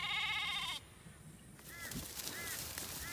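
Sheep and lambs bleating in a farm pen where ewes are being reunited with weaned lambs: one loud, close bleat opens, followed by fainter, wavering bleats further off.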